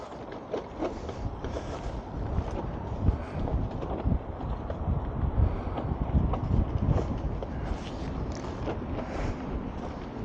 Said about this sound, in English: Not sure if you can hear me very well over the wind